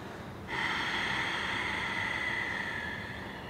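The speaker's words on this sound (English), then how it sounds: "Is the sound coming there, breathing sound?" A long, steady breath drawn through the nose during a breathing exercise starts abruptly and continues as an even airy hiss for about three seconds, close to the microphone with no talking.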